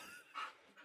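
A dog pants in short, quick breaths indoors, close and fairly quiet, with a brief louder burst midway, after a truck passing outside startled it.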